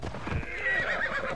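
A horse whinnies loudly and up close in Assassin's Creed Odyssey, a rising, shrill neigh that wavers and holds for over a second, set over faint hoof clatter.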